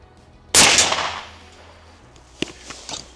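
A rifle fired once during target shooting: a single sharp, loud crack close by with a long fading echo, followed by a few faint clicks of handling.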